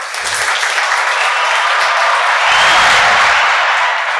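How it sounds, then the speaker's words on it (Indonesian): An audience applauds for Dio on an Indonesian talk show, a dense, steady wash of clapping that swells slightly toward the end, with no voices heard over it. "tepuk tangan buat Dio"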